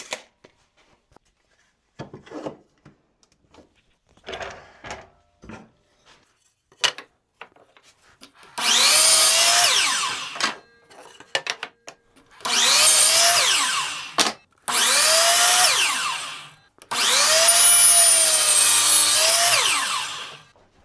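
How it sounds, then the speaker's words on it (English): Oak pieces cut to length against a stop block on a power saw: after scattered handling knocks, four loud whining cuts in succession, each spinning up, biting through the wood and winding down. "we'll put up a stop block and get them cut to 18 inches."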